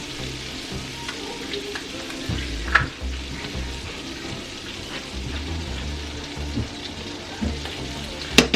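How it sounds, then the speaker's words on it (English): Garlic frying in a pan gives a steady, close sizzle and crackle throughout, with a few sharper pops and a faint scrape of stirring and no speech. "Then we're gonna add the garlic. Don't let it burn"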